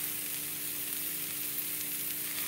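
A few drops of vinegar hit a hot pan, setting off a steady close sizzle that runs on evenly without pause.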